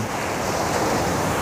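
Continuous roar of ocean surf breaking steadily on a roadside beach at Tunggul Buto, with wind buffeting the microphone throughout; no voices.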